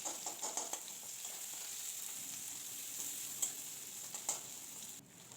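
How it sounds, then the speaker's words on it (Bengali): Chopped onion sizzles in oil in a pan for a Kain fish curry. A steady, fairly soft frying hiss plays alone, with a few light stirring taps. "এবার পেঁয়াজ কুচিটা দিয়ে দিলাম"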